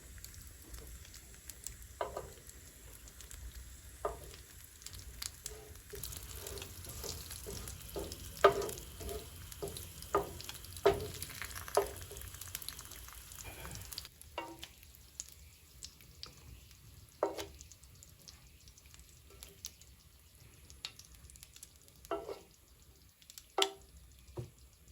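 Sage leaves crisp in a skillet, a soft steady sizzle with scattered small pops and crackles through the stretch, fairly quiet and close, no talk.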